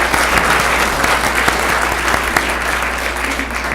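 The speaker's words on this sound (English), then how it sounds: "give the parents and guardians a round of applause for supporting their students" An audience at a school board meeting applauds parents and guardians, giving a loud, sustained, even round of clapping from many hands with no voices over it.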